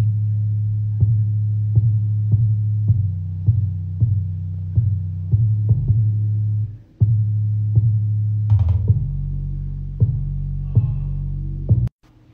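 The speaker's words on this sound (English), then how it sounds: "this is the sub-bass melody" Sub-bass melody from an electronic beat, a deep sustained humming bassline pulsing in steady repeated notes, loud and alone, with a brief dropout near the end.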